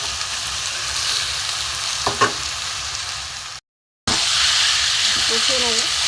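Chicken pieces hit a hot pan and fry with a loud, dense sizzle that briefly cuts out, then surges back. A voice speaks faintly over the frying.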